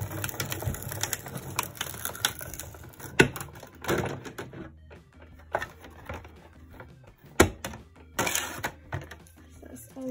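A Sizzix Big Shot die cutting machine cranks dies through with repeated clicks, ratcheting and clunks at close range, interrupted by a few sharp knocks.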